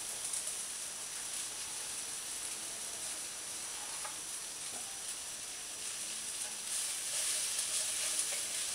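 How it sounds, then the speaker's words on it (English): Kale hitting a pan of cooking cabbage and mustard greens sizzles in a steady, bright hiss that holds throughout, growing a little louder near the end, with faint stirring clicks and no talking. "Now I'm going to add the kale."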